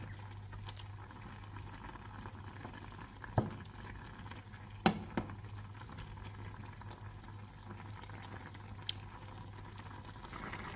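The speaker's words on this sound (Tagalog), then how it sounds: "So, kumulo na to guys." Salmon and mushroom sauce simmers under a lid in a pan, a low steady bubbling hum with a few faint pops and ticks, quiet and constant throughout.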